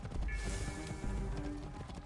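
Horses gallop in the video game Assassin's Creed Origins with quick, muffled hoofbeats over a rumbling, fiery game soundscape, fairly faint.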